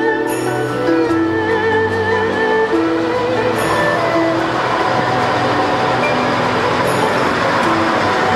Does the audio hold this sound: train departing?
yes